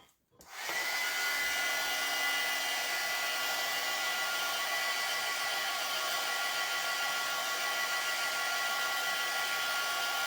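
A hair dryer blows a steady, loud, unbroken rush of air over a chalk transfer, starting abruptly after a brief silence and running without pause to the end.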